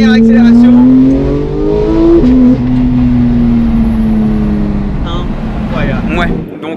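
A Porsche 911 GT3 of the 991.2 generation revs hard in a loud, close, rising howl that peaks, then eases back as the engine note tapers off, with brief voices near the end.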